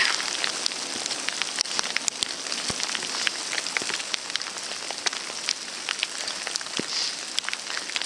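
Hail falls on a backpacking tent in the Rocky Mountains of Yoho National Park, a dense steady patter broken by sharp, irregular pellet strikes close on the fabric.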